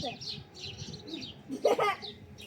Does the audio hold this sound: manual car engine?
no